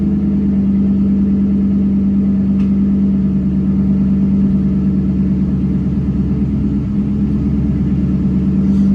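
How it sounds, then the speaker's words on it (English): A car engine runs steadily at a loud, even hum, a constant low drone with no clear rise in revs throughout. "Cause my car's revving kind of loud."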